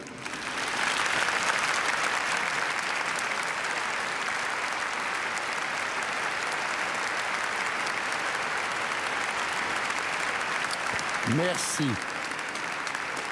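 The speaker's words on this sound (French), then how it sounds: "On peut les applaudir." Congregation at an Assumption Mass applauding the choir, sustained, dense clapping from a large crowd filling the space for over ten seconds, with a brief spoken word near the end.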